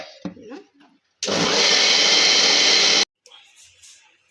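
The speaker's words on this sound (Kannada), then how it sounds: "ಇವಾಗ ರುಬ್ಕೊಂಡು ಬರೋಣ ಬನ್ನಿ" A mixer grinder grinds coconut chutney with coriander in a loud, steady whir that runs for about two seconds, with brief talking just before and after.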